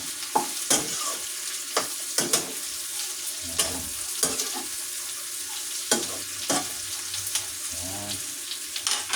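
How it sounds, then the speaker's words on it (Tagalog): Tofu pieces sizzle and fry in a pan with oil, stirred with a utensil that scrapes and clatters at irregular intervals, a steady crackle underneath throughout. "pira-piraso po na gigisahan na po natin dyan"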